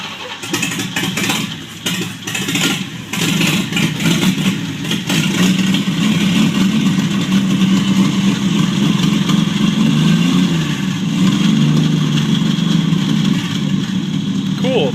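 A 1949 Chevrolet Deluxe four-door sedan's engine cranks and catches for its first start, then settles into a loud, steady idle with rough low rumbling; a person talks over it.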